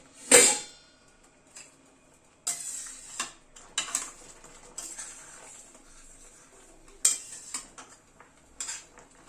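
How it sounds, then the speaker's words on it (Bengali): A metal lid lifts off a pot of simmering winter dal of matar dal cooked with radish, one sharp clang at the start followed by scattered light clinks and scrapes of utensils, close by with no talking. "ঢাকাটা খুললাম।"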